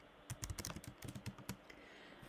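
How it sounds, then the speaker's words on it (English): Quiet, close-up typing on a computer keyboard, a quick burst of irregular key clicks that slows and stops. "You can start typing."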